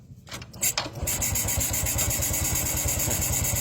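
A fuel-injected Honda motorcycle engine cranks a few times, catches, and settles into a steady, loud, close idle with a rapid even putter.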